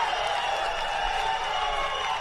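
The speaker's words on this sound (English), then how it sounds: "The crowd going crazy." A crowd at a UFC fight-week faceoff event roars steadily with mixed cheering and some clapping, loud and sustained throughout.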